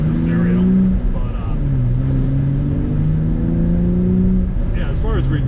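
A car's exhaust drones low and steady while driving, with someone talking over the engine hum throughout.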